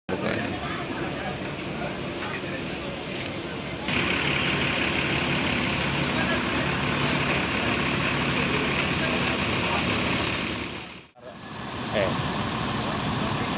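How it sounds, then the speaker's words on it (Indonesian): A Putra Pelangi Perkasa bus idles with a steady diesel rumble at a busy bus terminal, growing slightly louder as it moves off, with a brief dropout near the end and people talking over it. "Bus Putra Pelangi Perkasa Doraemon menuju peron ya."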